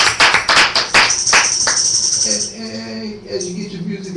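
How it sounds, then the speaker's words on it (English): A church congregation claps hands in praise, a burst of loud, fairly regular claps for the first two seconds that thins out into crowd murmur and lingering sound. "give your Father a hand clap of praise"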